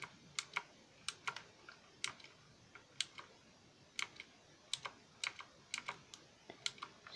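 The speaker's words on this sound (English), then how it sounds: "Cool command, mechanical keyboard." Mechanical keyboard keys clack in quick, uneven bursts of sharp clicks, fairly close but soft, with short pauses between runs of typing.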